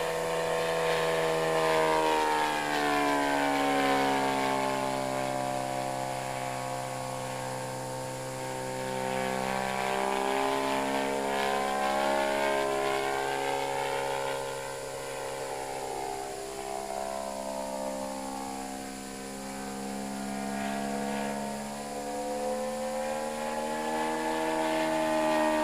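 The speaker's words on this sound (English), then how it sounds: "What really enhances this model's flying performance is the deep growling exhaust, which was also a feature of the full-size aircraft" A large-scale model World War II warplane flies past with a deep, growling exhaust note, rising and falling in pitch as it passes, loud and continuous with no voices.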